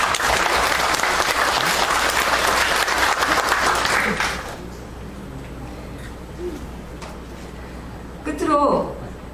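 A crowd claps loudly and steadily for about four seconds at a 2015 Jongno humanities-city declaration ceremony, then the applause dies into a quiet hall with a brief faint sound near the end.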